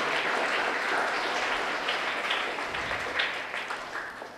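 An audience claps in thanks to the grandparents present, a sustained, moderately distant wash of many hands that softens slightly toward the end.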